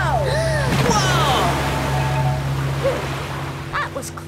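Rough water surging and splashing around a small boat in an animated children's show, a steady loud wash with wind noise and brief cartoon sound effects.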